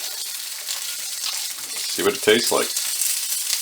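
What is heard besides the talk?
bacon frying in bacon fat in a frying pan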